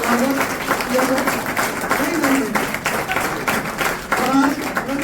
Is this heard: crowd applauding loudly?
yes